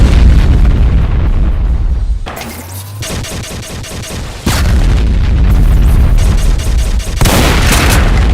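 BFG 10K shots from a Doom mod exploding in a continuous loud barrage of heavy booms and blasts, with dense overlapping detonations, a brief lull, then renewed roaring explosions.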